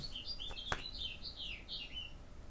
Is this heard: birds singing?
yes